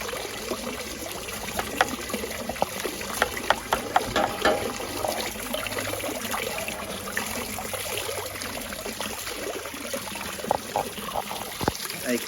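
A pond pump sends water flowing across a blade, producing a steady trickling stream with scattered splashy drips and clicks throughout, fairly close.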